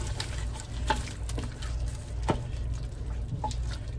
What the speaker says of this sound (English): Give that a stir. Get that incorporated.